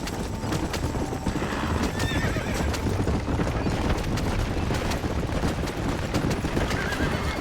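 Horses in Red Dead Redemption clop along steadily at a gallop with neighs and whinnies, loud and continuous over game ambience.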